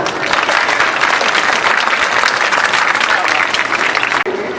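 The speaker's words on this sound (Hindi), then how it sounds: "बजाओ तालियां।" Audience at a youth festival comedy poetry recital breaking into loud, dense applause, a sustained wash of clapping close up that cuts off abruptly near the end.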